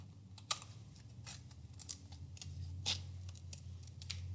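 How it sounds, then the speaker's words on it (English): Big scissors cut paper into a turkey shape in a run of quick little snips, each crisp and close, spaced unevenly over a low hum with no talking. "I've got to do little bitty snips to make my turkey"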